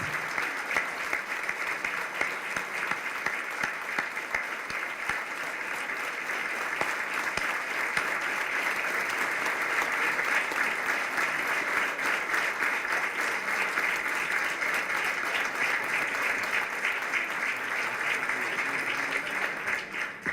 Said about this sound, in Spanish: El aplauso es para todos.